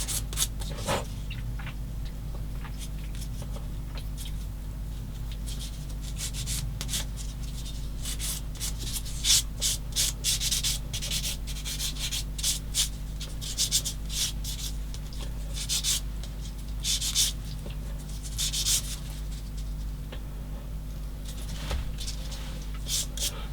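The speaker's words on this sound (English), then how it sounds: "you see me sanding" Hand sanding of a plastic part for a 1/16 scale M10 IIC Achilles tank destroyer model, a steady close scratchy rubbing in irregular strokes over a constant low hum, with no talking.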